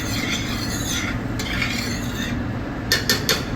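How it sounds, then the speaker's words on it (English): Onions go into a pan already cooking chorizo and jamon for callos, giving a quiet, steady sizzle with soft stirring and scraping and a few brief clinks near the end. No one speaks. "We'll add the onions now."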